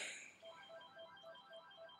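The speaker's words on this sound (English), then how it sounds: "And that's my phone ringing in the background." A phone rings faintly in the background, a repeating electronic ringtone with a steady rhythm of short tones, distant and quiet over a low hum.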